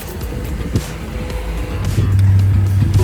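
A 2020 Toyota RAV4 LE fitted with a Start-X remote start kit cranks and fires up, its engine settling into a steady low idle hum that grows louder and holds near the end.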